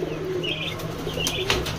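Startled pigeons give low, throaty coos that overlap in a steady murmur, with a few brighter chirps and a faint flutter of wings close by.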